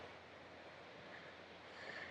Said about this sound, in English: I might fall over, it's so windy